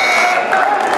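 A basketball game-ending buzzer at the Governor's Challenge tournament sounds as one steady, loud electronic tone held through the whole second, with crowd noise from the arena around it.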